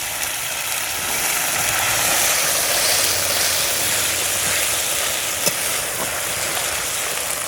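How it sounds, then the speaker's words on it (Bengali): Spice masala frying and sizzling in a pan after hot water goes in, for a boal fish kalia; a steady, close, broadband hiss holds for the whole stretch, with a faint low hum underneath and one brief click near the end. "এবার মশলাটা ভালো করে কষিয়ে নেবে"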